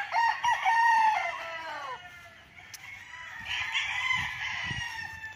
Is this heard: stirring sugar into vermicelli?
no